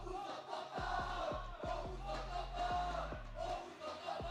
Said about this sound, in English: I just like listening to this crowd.